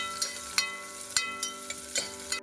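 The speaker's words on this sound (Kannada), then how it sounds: "ಆಯಿಲ್ ಹಾಕ್ಕೊಂಡು ಫಸ್ಟು ಈರುಳ್ಳಿ ಹಾಕ್ಕೊಂಡು ಚೆನ್ನಾಗಿ ಫ್ರೈ ಮಾಡಬೇಕು" Onions fry in hot oil with a steady close sizzle, punctuated by regular clicks and scrapes of stirring in the pan.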